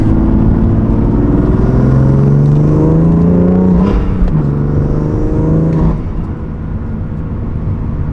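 A BMW F80 M3 fitted with an MST intake accelerates hard with the windows up, heard from inside: a loud, rising engine drone climbs through the gears with brief dips at the shifts, then settles to a lower rumble.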